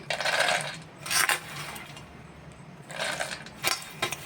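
Nuts dropped onto a metal puja plate while preparing a Bhishma Panchak vrat recipe: several bursts of hard rattling clatter, each about a third of a second, separated by quieter gaps, close and fairly soft.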